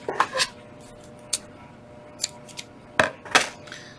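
Several short, crisp snips of scissors cutting ribbon at irregular intervals, close by in a quiet room.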